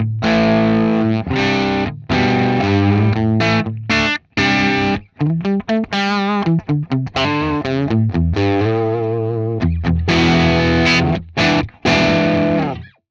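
Distorted electric guitar riffing alone through a Line 6 Helix amp modeler, with heavy amp-style crunch and a shimmering chorus effect, chords and single-note runs broken by short pauses.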